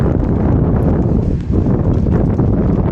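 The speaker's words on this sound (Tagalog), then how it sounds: "medyo may hangin siya." Strong outdoor wind buffets a microphone in Aurora, making a loud, continuous low rumble and roar with slight gusting swells and a brief dip midway, no voices heard.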